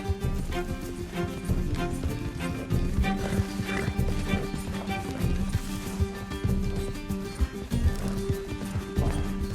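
A horse gallops in Red Dead Redemption 2, its steady drumming hoofbeats running throughout beneath a layer of game music and ambience, close and fairly loud.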